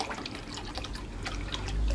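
Water runs from a pressure filter pump into a wheelie bin pond setup, a steady close splashing trickle that swells toward the end.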